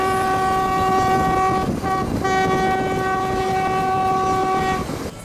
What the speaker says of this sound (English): we boarded the train for Machu Picchu